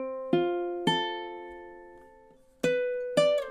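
Four plucked ukulele chords from measure 33 of a song ring out one at a time, each bright attack decaying slowly, two close together early and two later, with no talking.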